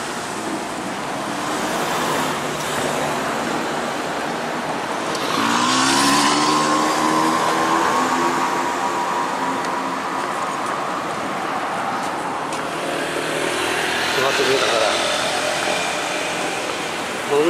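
Several cars swish past on a busy, narrow road through a residential area, loud and close, with one vehicle swelling in and fading out mid-clip and steady traffic hiss throughout, no talking.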